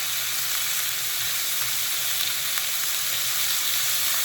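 Beef frying in a skillet for ramen, a steady loud sizzle that holds constant throughout with no talking.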